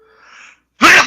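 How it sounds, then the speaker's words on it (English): A single person sneezes loudly and close by, a short inhaled buildup followed by one sharp, explosive burst. "at work when somebody in the room sneezes, we count how many times they sneeze"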